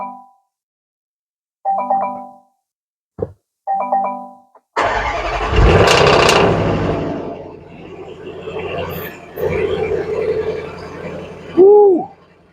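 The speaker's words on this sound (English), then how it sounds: "get this Range Rover started on a 3 o'clock in the morning cold start" A Range Rover SVR with its exhaust valves open cold-starts at 3 a.m.: a few starter chimes, then a sudden loud roar that settles into a rumbling idle with small revs, a chirping sound near the end.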